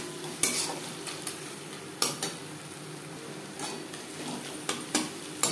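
Onion fried with ginger and green chili paste sizzles steadily in a pan while a spoon stirs and scrapes, its clacks striking the pot several times, close and moderately quiet, with no talking.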